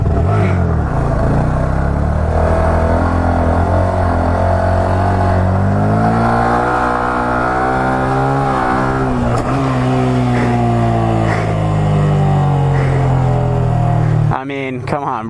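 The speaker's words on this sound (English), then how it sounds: "you could hear her revving out there" A vehicle engine revs hard and steadily at a stunt lot, its pitch climbing and holding loud and close for most of the clip before cutting off near the end.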